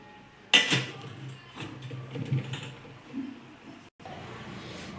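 A clean metal idli cooking vessel is set down in a home kitchen, giving one sharp close clank near the start followed by softer handling knocks, with no talk.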